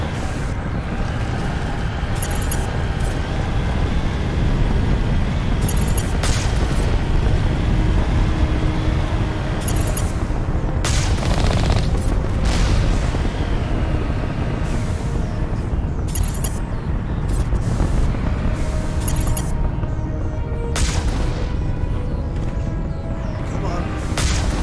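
Turret gunfire in the video game Mass Effect, loud heavy bursts and booms repeating irregularly over a constant roaring battle and wind background, close and dense throughout.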